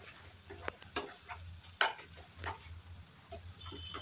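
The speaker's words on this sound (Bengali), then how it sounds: "খুব ভালো করে কষিয়ে নিতে হবে।" Tomato masala fries in oil for a Bengali koi fish curry, with a soft steady sizzle and intermittent scraping stirs of a spoon against the pan, fairly quiet and close.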